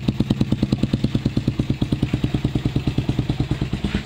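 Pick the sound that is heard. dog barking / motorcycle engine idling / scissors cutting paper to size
motorcycle engine idling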